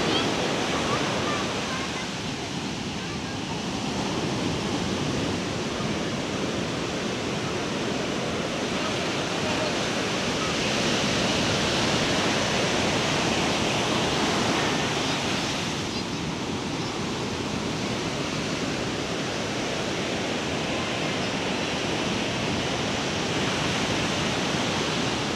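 Surf washing onto the shore at Nai Harn Beach in Phuket, a steady broadband roar that stays loud and continuous throughout with gentle swells in intensity, mixed with some wind buffeting.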